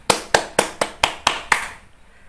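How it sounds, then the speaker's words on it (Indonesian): Seven sharp, evenly spaced claps for the children in a primary religious lesson, close and distinct in a steady rhythm, then stopping with a quiet tail. "Tepuk tangan untuk anak-anak semuanya"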